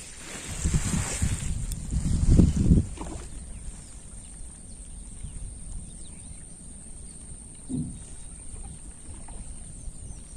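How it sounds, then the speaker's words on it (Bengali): A breeze blows outdoors over village fields near water, with gusty wind buffeting the microphone that is strongest in the first few seconds, then a quieter airy background with one brief later gust. "আজকে একটু বাতাস আছে"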